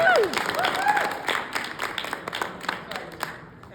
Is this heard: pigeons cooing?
no